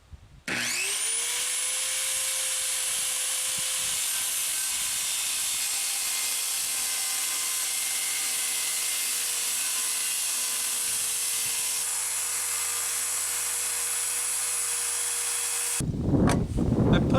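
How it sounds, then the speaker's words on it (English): A power saw cuts through a 2x4 for a workbench build, a loud, sustained high-pitched whine that spins up, runs steadily for about fifteen seconds through the wood, then cuts off, followed by brief clatter. "keep gentle pressure against the 2x4 and push the saw through the cut, and we should get a perfect cut every time."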